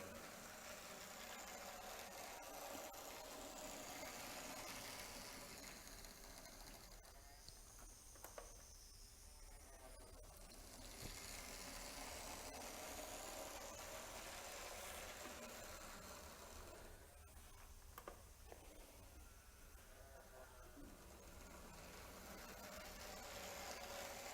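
A Lima VLine B class model locomotive motor runs steadily, a faint, even electric whir and hum that holds throughout with only slight swells, alone without voices.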